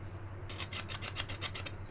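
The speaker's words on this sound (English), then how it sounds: "I normally end up having to file a little bit here and there" A hand file rasps at a hole in a milled front panel being fitted for a rocker switch, about ten quick rhythmic strokes close up with nothing else heard.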